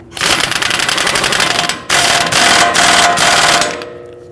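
Rapid, loud mechanical rattling as the axle nut is run down on a 2010-2019 Ford Taurus rear hub, two dense bursts with a brief pause between, likely from a power wrench, ending with a fade.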